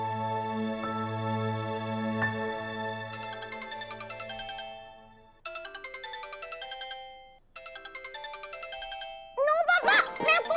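A phone ringtone for an incoming call plays loudly in repeated melodic bursts with short pauses between them, and a voice begins speaking over it at the end.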